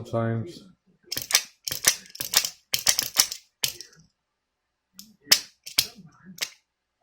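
Hasbro Mighty Morphin Red Ranger retro-morphing figure with a faulty automorph mechanism gives bursts of close, sharp plastic clicks and ratcheting clacks in two clusters, after a brief opening tone and separated by a short pause.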